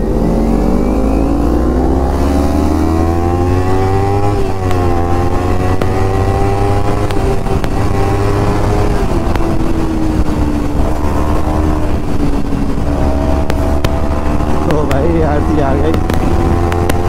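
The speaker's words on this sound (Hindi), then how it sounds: "इंजन को जो है खोल सकते हैं, रेप कर सकते हैं, बाइक थोड़ा भगा सकते हैं" Sport motorcycles, a Kawasaki Z900, Ninja 300 and KTM 200, revving and accelerating on an open road, with engine pitch rising and falling in loud close sweeps over steady wind rush and a low drone.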